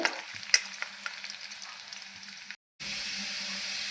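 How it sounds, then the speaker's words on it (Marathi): Garlic frying in oil in an iron kadhai gives a steady close sizzle with scattered stirring clicks. A sharp scrape stands out near the start, then the sizzle drops out briefly and comes back louder. "आता हा लसूण आपल्याला लाल परतून घ्यायचा आहे लाल होईपर्यंत"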